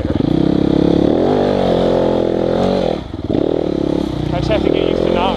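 A Yamaha YZ250FX enduro motorcycle engine roars loud and close on a trail, holding high revs with brief throttle dips and a short drop near the middle, with clattering from the ride underneath.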